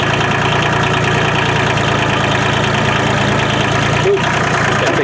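An auger truck's diesel engine idles loudly and close at a steady, knocking rumble while it raises a telephone pole, continuous throughout with a brief dip near the end.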